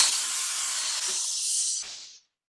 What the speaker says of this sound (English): make sure you're getting nice, hot, strong steam out of it and it's not spitting